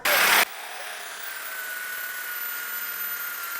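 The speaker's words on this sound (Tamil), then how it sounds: "ட்ரில் பிட்டை வச்சு இதை ஓட்டை போட ட்ரை பண்ணோம்" A power drill spinning a drill bit into a workpiece while enlarging a hole for a homemade 35cc two-stroke engine motorcycle, a brief loud burst followed by a steady high whirring hum.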